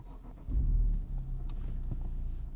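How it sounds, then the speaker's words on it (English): A Honda Civic Type R FL5 starts up again, a low rumbling engine catch swelling loudly around half a second in, then settling into a steady close idle with faint clicks. "We're going to turn the car back on."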